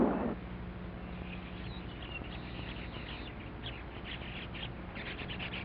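Male weaver birds call near the Ganges before the monsoon, a busy scatter of faint high chirps and twitters over a steady background hiss, with no voices.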